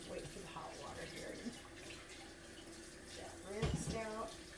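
Hot water runs from a kitchen tap into the sink, a steady splashing flow with dishes nearby, and a brief clatter or voice near the end.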